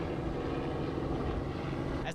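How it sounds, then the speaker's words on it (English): A police helicopter circles overhead above frantic crowds searching for missing children, its rotor and engine giving a continuous broad droning rumble that stays loud and steady throughout. "As the police helicopter circled above"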